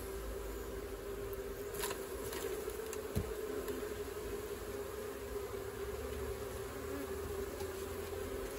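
Honey bees buzz steadily as they are shaken from a mini nuc into a new box, a soft continuous drone with faint knocks and rustles over a quiet background.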